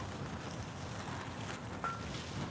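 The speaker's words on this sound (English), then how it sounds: "can you hear that wind? It's so windy." Strong outdoor wind buffets the microphone in a steady, broadband rush near a parked spot with flowers, with a brief faint whistle-like tone partway through and no talking.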